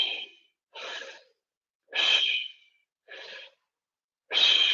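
Five separate breaths during a breathwork exercise, big airy inhales and relaxed exhales, each about half a second long with pauses of silence between them, close and clear with no talk.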